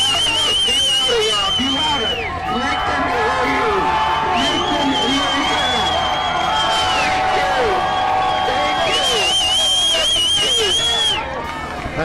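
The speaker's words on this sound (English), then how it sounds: "You hear the crowd." A protest crowd in Minneapolis is fired up by a host shouting through amplification, with continuous crowd babble, cheers and whoops beneath the ringing, echoing voice.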